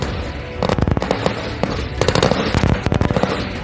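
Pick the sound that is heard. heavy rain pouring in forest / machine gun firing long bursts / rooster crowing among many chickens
machine gun firing long bursts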